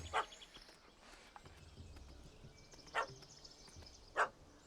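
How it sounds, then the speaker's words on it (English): A small dog in The Witcher 3: Hearts of Stone barks three times: one short yap at the start, then two sharper barks later, separated by quiet background ambience. "It's a small dog, buddy."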